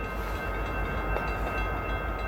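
Freight train heading west through snow in Michigan, a continuous low rumble and rolling drone of rail cars passing at steady loudness, no voices.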